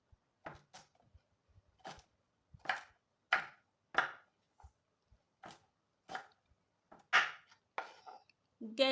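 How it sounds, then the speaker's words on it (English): A knife dices coconut and ginger on a cutting board, about a dozen crisp, evenly spaced strikes, close and clear with no talking. "Now I'll go ahead, dice the coconut and then the ginger."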